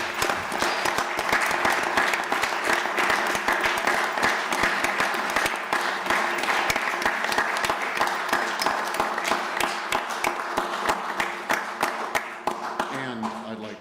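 A council chamber crowd applauds students at a Williamsport city council meeting, a long, dense round of clapping at steady strength that thins toward the end.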